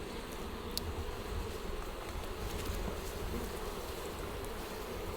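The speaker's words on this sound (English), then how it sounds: "You're kind of agitating the bees" Agitated honey bees swarm around an open hive during a honey harvest, a dense, continuous buzzing hum that fills the space, close and steady throughout with no voices.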